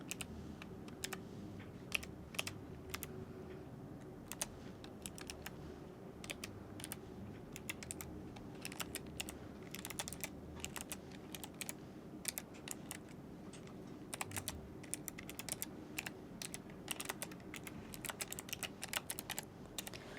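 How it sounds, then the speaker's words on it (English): Steady typing on a computer keyboard, quick irregular clicks of keys close up and quiet, continuing without pause, no voices. "I thought we could type and do some clicking and see what happens"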